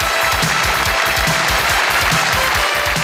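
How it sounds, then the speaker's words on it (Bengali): Television studio audience applauding as four people are called onto the stage, loud dense clapping with a rhythmic, almost unified beat, sustained and close. "তাদের জন্য করতালি"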